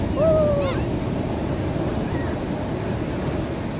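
Ocean waves at Hampton Beach, a steady broad wash of surf rumbling throughout, with a brief whistle-like tone near the start and a faint one later.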